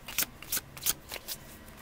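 Tarot cards are shuffled by hand in a quick series of about six crisp riffling bursts, each a short papery flutter. They sound close and fairly quiet, with no talking over them.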